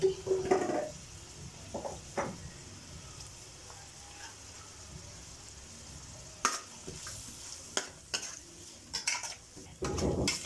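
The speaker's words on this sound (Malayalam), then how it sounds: "എന്നിട്ട് ഇത്തിരി ഉപ്പിട്ട് വഴറ്റുക" Sliced onions with a little salt being sautéed in a pan for duck curry, a soft sizzle beneath clinks and scrapes of a utensil stirring, with sharper metallic knocks toward the end.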